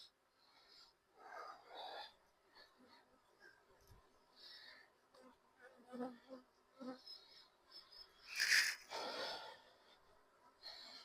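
Steady honeybee buzzing in a hive, with soft breathy sounds and brief rustles over it, close by.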